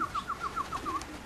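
A racing pigeon coos softly in a run of about seven short repeated notes, fairly faint, with no voices present.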